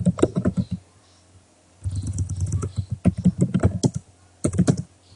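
Clicky keys rattle on a computer keyboard in quick bursts of typing separated by short pauses, close and clear.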